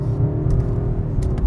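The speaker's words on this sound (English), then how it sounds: "Still gonna sound like a V8" A 2025 BMW M5 V8 with the synthetic M sound switched off, giving a steady, muffled low engine drone that stays close and even throughout, with no talking.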